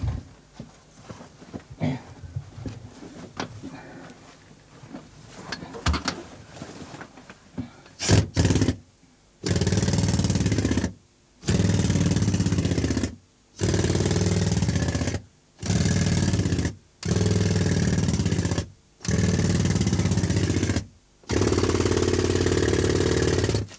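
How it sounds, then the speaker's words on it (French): A jackhammer breaking coal in a mine runs in loud, regular bursts of several seconds each, separated by short pauses, after an opening stretch of scattered clatter and rustling. "Il y a un marteau-pique."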